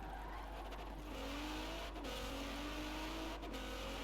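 Van engine in Forza Horizon 4, a steady low engine drone with a rising and falling pitch as it revs, mixed with road or tire noise, fairly quiet and continuous with no talking.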